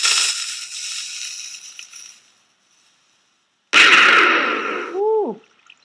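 Uber cannon in a video game blasting at wool blocks: a sustained hissy roar fades out, silence follows, then a loud broadband crash bursts in and ends with a quick rising whistle-like sweep.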